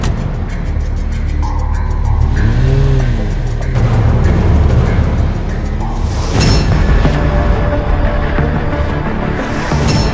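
A car drives along a road for about ten seconds, its engine noise loud and continuous, with a rumbling low end and some bumps and shifts in tone partway through and no one speaking.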